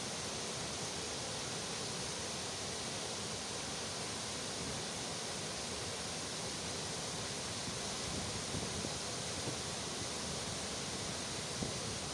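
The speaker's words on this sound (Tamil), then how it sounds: "சைக்ளோனுக்கு பிறகு வாட்டர் ஃபால்ஸ் எப்படின்னு பாருங்கள்" A waterfall in the Kalvarayan hills after a cyclone, swollen with extra water, gives a steady, dense roar of rushing water that holds unbroken and fairly loud throughout, with no voices.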